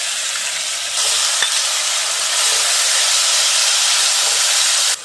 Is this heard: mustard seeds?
yes